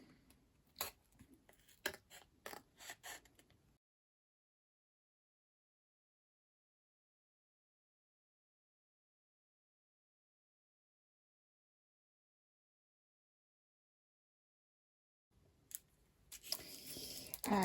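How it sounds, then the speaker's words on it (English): Scissors cutting out paper for a mixed-media art journal tag: a quick run of sharp, close snips over the first few seconds, then a long silence before some rustling handling noise at the end. "I'm just going to use my scissors to cut this out."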